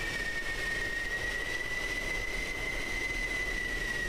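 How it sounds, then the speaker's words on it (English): F-16 Viper jet taxiing in a flight combat game, a steady high engine whine with a constant low rumble underneath, unchanging and continuous with no voices. "We got a Viper here taxiing."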